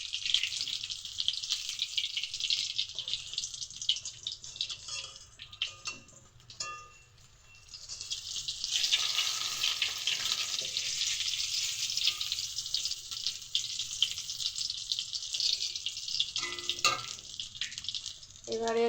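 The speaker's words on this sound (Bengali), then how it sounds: "চিলি ফিশের ভেটকি মাছটাকে ম্যারিনেট করে এই যে ভাজছি।" Marinated bhetki fish pieces fry in oil for chilli fish, a loud hissing sizzle close by that dips briefly midway, then swells again with scattered ticking spatters.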